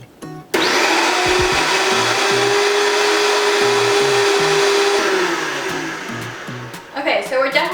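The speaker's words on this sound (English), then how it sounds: "So let's throw the lid on and put it on our blender" A Vitamix blender roars loudly while blending a thick green smoothie with tahini, a sustained high-pitched motor whine that slows and fades before stopping, followed by brief talk.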